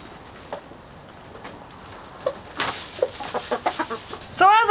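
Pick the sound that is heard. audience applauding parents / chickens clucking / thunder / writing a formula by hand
chickens clucking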